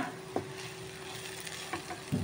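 Chicken liver masala with chili powder cooking on a low flame, a soft continuous sizzle with a few faint stirring scrapes, close and quiet.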